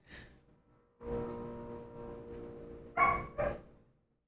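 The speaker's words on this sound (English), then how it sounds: "do you hear the dog talking back there?" A dog barks a few times from another room behind a streamer, with loud sharp bursts near the end after a longer stretch of lower rumbling sound.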